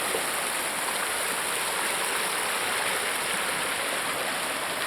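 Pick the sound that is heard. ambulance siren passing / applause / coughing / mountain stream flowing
mountain stream flowing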